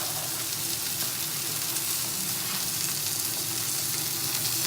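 Risotto cooking in a pan over low heat gives a steady, even sizzle and gentle frying hiss, close and constant throughout with no talking.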